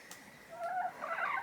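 Chickens in a winter coop warmed by a heat lamp and radiant panel give soft, close clucking and gobble-like calls, rising to a fuller burst of vocalizing near the end, with no talk.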